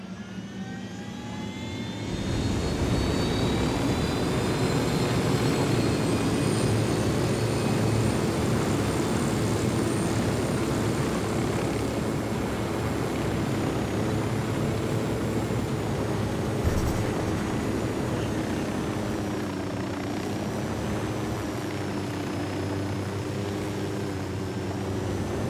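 Drone launching and taking flight in Ghost Recon Wildlands, a steady loud jet-like engine whine that rises after a brief quieter start and holds for the rest of the stretch, with faint high whistling tones over it.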